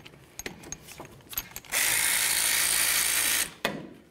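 Ratchet wrench loosening brake caliper slider bolts on a 1998-2011 Ford Ranger during a front brake job: a few scattered clicks, then a steady buzzing ratchet run for almost two seconds, close and loud, ending in a sharp clack.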